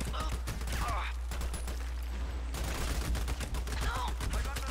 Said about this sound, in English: I'm just gonna be blind firing here.